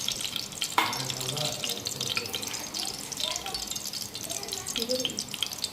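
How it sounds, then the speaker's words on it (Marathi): Mustard seeds dropped into hot oil for a Maharashtrian brinjal bharit, giving a steady crackling sizzle with small pops and a stir, while someone talks over it. "हे आता आपण त्याच्यामध्ये राई घालून घेऊया एक चम्मच"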